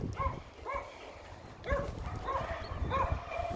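Several dogs bark and yip during an outdoor walk, with short close barks repeating in irregular bursts over steady background noise.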